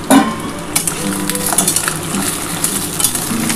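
Crabs fry in a pan for a crab curry, giving a steady close sizzle with scraping and stirring clatter from a utensil against the pan.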